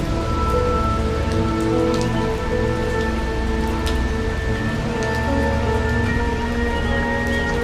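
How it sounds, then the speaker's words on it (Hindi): Heavy rain pattering steadily on a surface, with scattered drips and splashes standing out, continuous and close throughout. "बारिश लगातार बरस रही थी। छत से पानी टपक रहा था।"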